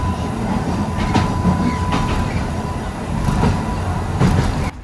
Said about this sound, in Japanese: 鉄道線区間では縦に横に車体を揺らしながら駆け抜けていきます